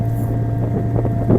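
Motorboats idling on the water at Fudam Bird Sanctuary in Diu, a steady low engine drone with wind noise over the microphone, close and continuous.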